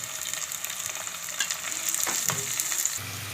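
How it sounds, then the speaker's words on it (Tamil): Onions and curry leaves sizzle and fry in a pan for a Tamil garlic kuzhambu. The hiss is steady and close, with small crackles and a few stirring scrapes, and no talk. "வெங்காயம் நல்லா வதங்கணும்."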